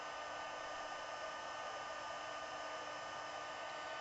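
A heat gun blowing hot air during a papercraft stamping project, producing a constant, even whooshing roar that holds steady from start to finish at low level.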